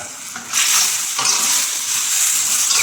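Chili stir-fries in a hot pan, jumping from a quiet hiss into a loud, bright, continuous sizzle with a brief scrape of stirring partway through.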